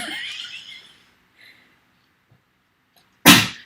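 A horse sneezing: a sudden, loud, breathy snort-like burst near the end, preceded by hissing breath and quiet pauses.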